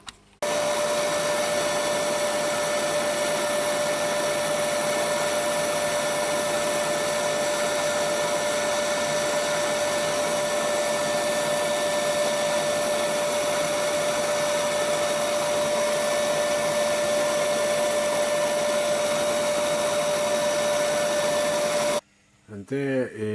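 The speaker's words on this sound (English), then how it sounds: "so I'm going to sand that up now" A steady, loud whirring hum of a spinning lathe with a continuous abrasive hiss of sanding yew wood, running unbroken for a long stretch before cutting off.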